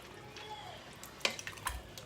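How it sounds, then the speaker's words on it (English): A spoon stirs food in a pot in a home kitchen, giving a few faint scrapes and clinks against the metal with a soft background hiss. "So we need to just give this a little stir."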